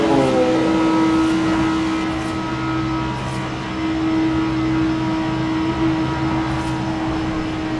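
An Audi R8 V10 Plus in the Forza video game drones steadily at high speed through a tunnel, a sustained, even engine tone with faint passing whooshes above it.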